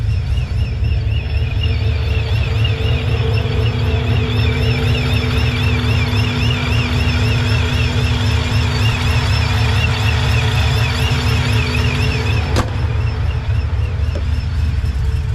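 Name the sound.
5.3 Chevy Silverado with long tube headers driving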